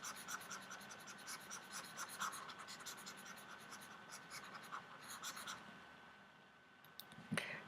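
An eraser rubs across a board where factoring work is written, a steady faint scratching and squeaking in quick strokes that carries on throughout, with a couple of louder knocks near the end.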